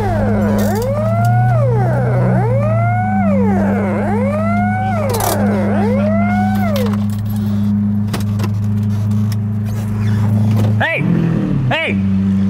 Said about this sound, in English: I'm gonna drive off now.